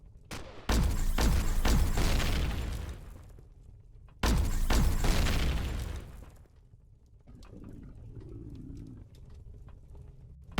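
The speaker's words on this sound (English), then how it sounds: "Should be able to get these guys with the sniper rifle." Sniper rifle shots in Empyrion Galactic Survival, two loud cracking reports with long reverberant tails a few seconds apart, followed by quieter scattered game sounds.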